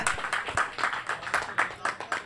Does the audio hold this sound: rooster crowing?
no